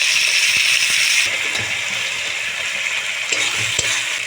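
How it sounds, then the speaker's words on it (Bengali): Onion and tomato sizzling in a frying pan, a dense continuous hiss of hot oil with soft stirring scrapes and light knocks, loud and close, dipping slightly midway. "পেঁয়াজ টমেটো আমার ভাজা হয়ে গিয়েছে দেখতে পাচ্ছি"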